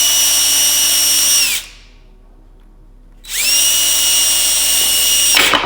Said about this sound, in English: I'm going to put some pre-drilled holes